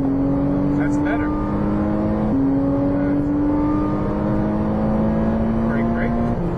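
A sports car on a Las Vegas race track accelerates with a sustained, rising engine tone. A brief dip marks a gear shift partway through, and a voice speaks over the engine throughout.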